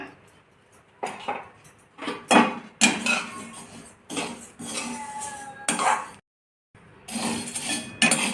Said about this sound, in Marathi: आता बडीशेप भाजून घेऊया